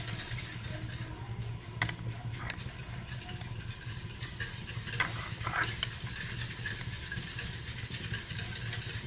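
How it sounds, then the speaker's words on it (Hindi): Cornflour is stirred into milk in a bowl with scattered spoon clinks and swishes over a low, constant hum. "अब इसको अच्छे से मिक्स करेंगे।"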